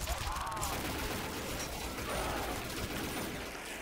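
A gun fires continuously in a custom Call of Duty zombies game, a dense rattling stream of shots that stays steady and loud throughout.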